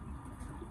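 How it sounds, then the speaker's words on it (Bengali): Pigeons being fed on a rooftop in the afternoon give soft, low cooing and faint shuffling, quiet and close, with no voices. "এই যে কবুতর খাবার দিয়েছে, দেখো।"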